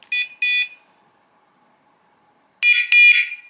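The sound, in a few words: Dogtra 2702 e-collar beeper tone, muffled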